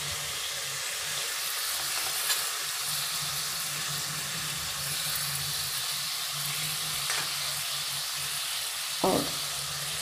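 Three tomatoes sizzle and fry in a pan with a steady, moderate crackle, with a couple of brief stirring clinks near the end.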